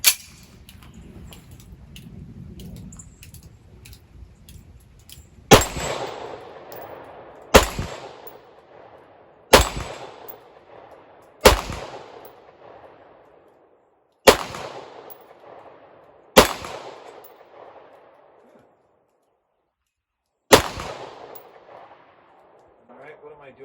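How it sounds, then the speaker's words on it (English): Ten rounds fired from a Beretta M9 pistol at a range, with sharp, loud gunshots spaced a few seconds apart, each ringing out with a decaying echo, preceded by faint background voices. "All right, 10 rounds through the Beretta M9."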